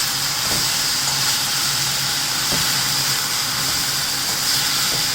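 Fresh methi leaves go into a pan of cooking onion and tomato with a loud, steady sizzling hiss, broken by a couple of soft thumps as they land.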